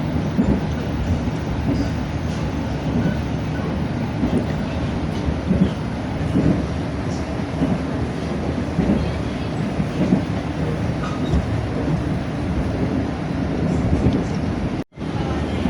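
Taksaka executive train running northbound near Kroya, a continuous low rumbling roar of wheels and carriage heard from inside, steady and even for the whole stretch, with a brief dropout near the end.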